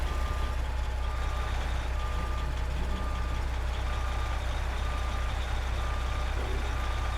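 A heavy-haul truck in American Truck Simulator reverses with steady, evenly spaced backup beeps repeating throughout over a constant low engine drone, with no talking.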